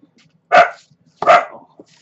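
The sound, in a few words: pet dogs barking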